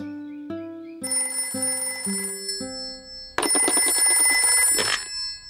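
A cartoon telephone rings in Peppa Pig, starting with a rising run of simple electronic beeps, then bursting into loud, bright, rapid bell-like trilling before cutting off.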